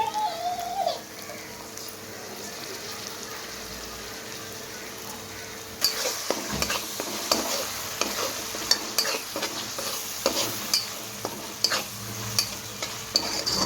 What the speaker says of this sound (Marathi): आता आपण याच्यामध्ये सोया सॉसही घालणार आहोत आणि व्यवस्थित शिजवून घेणार आहोत.